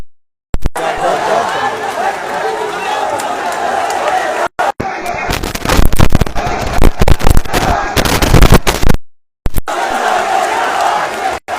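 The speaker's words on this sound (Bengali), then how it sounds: "অবস্থান নিয়েছেন সাধারণ শিক্ষার্থীরা এবং বিভিন্ন ধরনের স্লোগান দিচ্ছেন" Crowd of student protesters in Sylhet chanting slogans during a quota reform demonstration, loud massed voices with bursts of sharp cracks and shouting, broken by a few brief gaps of silence.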